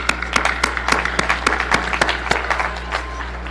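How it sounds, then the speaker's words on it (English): A graduation crowd claps, with sharp, distinct hand claps standing out close by against a steady background hum and a looser spread of applause. "Give yourself a round of applause for making it here today."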